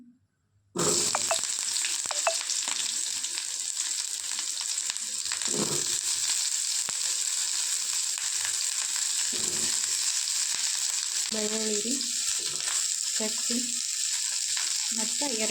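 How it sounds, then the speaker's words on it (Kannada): Onion and tomato frying in a little oil in a pan for mattar paneer, a loud continuous sizzle close by that runs without a break, with occasional scraping stirs and faint voices in the background. "ಒಂಚೂರು ಎಣ್ಣೆ ಹಾಕೋತೇನೆ ಆಮೇಲೆ ಇಲ್ಲಿ ಕಟ್ ಮಾಡಿ ಇಟ್ಕೊಂಡೇನಲ್ರಿ ಉಳ್ಳಾಗಡ್ಡಿ ಟೊಮೊಟೊ ಇವನ್ನ ಹುರ್ಕೋತೇನೆ"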